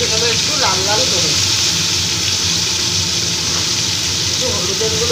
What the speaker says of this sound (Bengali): ফুলকপিগুলো দিয়ে দিচ্ছি তেলে। এবার ভেজে নেব একটু লাল লাল করে।